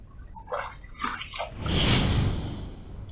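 A safety razor is rinsed under running water after the first shaving pass: brief splashes and drips at first, then a steadier rush of water swelling midway before easing off, close by with no talking.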